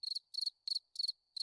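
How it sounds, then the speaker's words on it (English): Cricket chirping in bursts of rapid pulses, five short trills spaced evenly and fairly close, loud and clear with no other sound around them. "Cricket sounds?"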